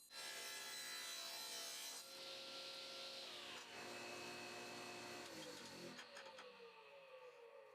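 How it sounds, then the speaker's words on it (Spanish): Wooden cutting board pieces being lightly sanded after band saw cutting, a steady close abrasive rubbing that runs continuously and shifts tone partway through. "Le doy un lijado ligero a ambas piezas para eliminar las marcas de la hoja de la sierra de banda"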